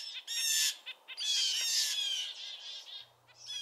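Small woodland birds raucously mob an owl or hawk, giving repeated bursts of harsh, high scolding calls close by, with brief pauses between flurries.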